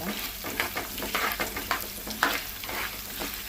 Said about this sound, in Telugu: ఇప్పుడు ఇవి కొంచెం లైట్గా గోల్డెన్ కలర్ వచ్చేలాగా ఫ్రై చేసుకోవాలి